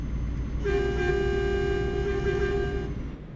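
A truck's air horn in Euro Truck Simulator 2 sounds one loud, steady, sustained blast of about two seconds over a low engine rumble.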